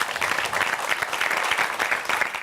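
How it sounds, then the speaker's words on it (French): An audience claps steadily for players and supporters seated in the public, a dense, even wash of applause that holds at the same loudness from start to finish with no voices over it. "On peut les applaudir, ils sont avec nous."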